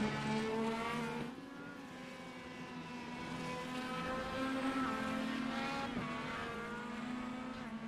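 Race cars roaring past on an oval track at a Gulf Coast event, a loud sustained engine drone with harmonic whine rising and falling as cars sweep by, no talk over it.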